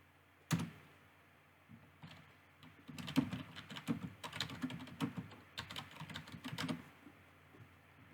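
Quiet clicking of keys on a computer keyboard, one isolated tap followed by a steady run of typing keystrokes, faint and close, with no talk over it.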